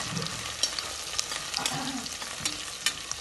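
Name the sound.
onions frying in hot oil until golden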